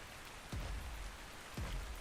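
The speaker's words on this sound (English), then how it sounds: "Hey, it's raining in the desert." Rain falling in the desert in the video game Ark Survival Ascended, a quiet, steady hiss of rainfall with two low whooshing sweeps passing through, faint overall and without speech.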